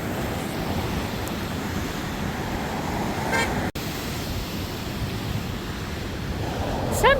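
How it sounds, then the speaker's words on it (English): Steady road traffic rumbles beside a coastal trail between Half Moon Bay and Princeton, a continuous broad roar mixed with wind, cut by a brief dropout midway and a short horn-like toot near the end. "you don't mind the traffic noise, the location is amazing"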